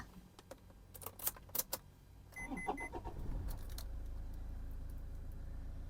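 Keys jingle and click in the ignition of a 2013 Toyota Fortuner 3.0V 4WD, then the starter cranks and the engine catches and settles into a low, steady idle, heard from inside the cabin.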